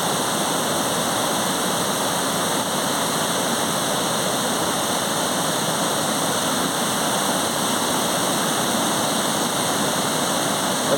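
Cachoeira do Piu waterfall in Araponga, in the Serra do Brigadeiro, roars as a constant, dense wash of falling water, loud and unbroken, with no voices.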